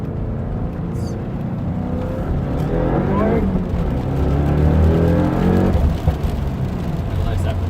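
A 2015 Subaru WRX with a Stage 1 tune launches from first gear and accelerates hard on a rainy road, the engine note rising steadily with a whooshing exhaust, with speech over parts of the pull.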